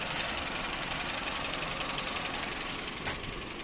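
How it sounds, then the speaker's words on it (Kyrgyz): A 2008 Honda Civic with a 1.8-litre engine and automatic transmission idles with a steady, even rumble, close and constant, with no talking. "Мотору вообще сонун иштеп турат."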